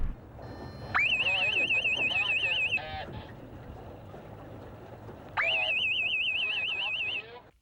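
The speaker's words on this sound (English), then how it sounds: "The system consists of beeping buoys" Two bursts of warbling electronic beeping from sailing course buoys for blind sailors, each about two seconds long, with faint talking and background noise between them.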